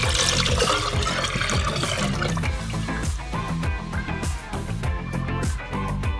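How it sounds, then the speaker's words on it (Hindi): Chickpea cooking water pours into a pan, a steady close splashing and gurgling stream that runs without a break throughout. "अब जो चनों का पानी हमने निकाल लिया था वो शामिल कर देते हैं।"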